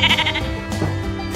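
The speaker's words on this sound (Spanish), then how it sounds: "la oveja" A sheep bleats in a wavering, nasal call, close and clear, followed by a second shorter bleat.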